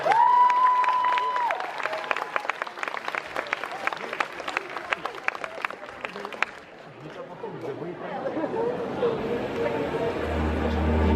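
An audience at a cosplay contest applauds a cosplayer dressed as Elaine, a run of crowd clapping that fades out partway through, followed by quieter room sound and a voice.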